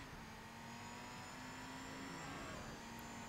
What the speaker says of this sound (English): could hear the other cars going by